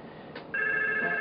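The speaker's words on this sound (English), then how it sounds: "Our phone now comes off hook saying, are you there?" A 3CX office phone system placing a call and going off hook, with a steady electronic tone starting partway through over a low hum, close and clear with no talking.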